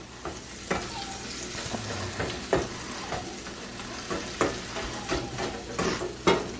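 Eggs and shredded cheese stirred in a frying pan sizzle steadily up close, with a spatula scraping in repeated strokes and no voices.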